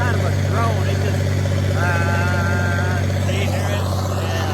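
A straight-pipe tractor engine drones loudly and continuously during planting, a deep steady rumble with a strong low hum, while someone talks over it up close.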